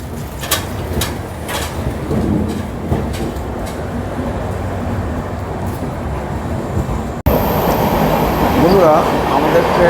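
Kriya Yoga Express, an Indian passenger train from Howrah to Ranchi, rumbles steadily from onboard with rhythmic rail clatter and wheel noise, a brief cut partway, then louder wind and running noise, with voices talking over it.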